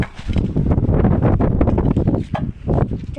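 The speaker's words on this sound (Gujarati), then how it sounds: "જાજો પવન આવી રહ્યો છે" Strong wind gusting hard against the microphone outdoors, a dense continuous roar and buffeting with no pauses, close and loud.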